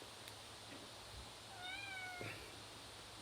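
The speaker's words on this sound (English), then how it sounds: "He's at the door meowing to go out." A single drawn-out meow from a cat at the door wanting to go out, moderately close and fairly quiet, against a steady low background hum.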